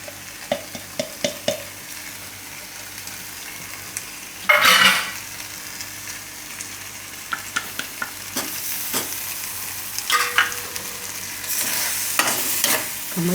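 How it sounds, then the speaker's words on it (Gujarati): A masala for methi tuver dana shaak is stirred in a pan over low heat, with soft sizzling frying underneath. A spoon scrapes and clinks against the pan, and one louder burst of stirring comes partway through. The sound is close and no one speaks. "મસાલાને થોડીક વાર પાકવા દેવું. આમાં ગેસ ધીમો રાખશું, વચ્ચે વચ્ચે હલાવતા રહેવું."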